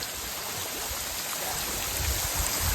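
Steady rain falling outdoors around a children's play area with a seesaw, a continuous dense wash of drops on surfaces with no voices, slightly heavier toward the end.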